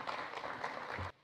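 An audience at a public lecture on the Imjin War and Honam righteous armies claps steadily for about a second to welcome the professor, the applause moderately loud before cutting off abruptly.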